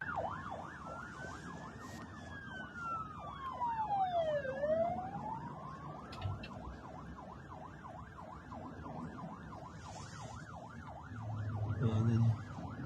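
Wailing sirens rise and fall repeatedly, one sweeping slowly while others yelp quickly, over passing traffic noise and growing louder toward the end.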